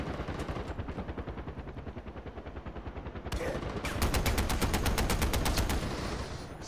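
Rapid automatic gunfire in the video game Far Cry 4, a steady stream of loud bursts that grows denser and heavier partway through, with no speech over it.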